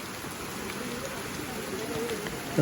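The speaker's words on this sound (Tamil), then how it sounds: "மழை அதிகமாக இருக்குது" Heavy rain pours down in a steady, dense hiss, with a faint voice briefly underneath.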